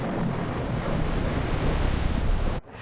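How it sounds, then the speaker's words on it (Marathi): Stormy sea with crashing waves and strong wind, a dense roaring wash of surf and gusts sustained at close range for a few seconds before dropping off sharply. "वारा जोरात सुटला आणि समुद्र खवळला"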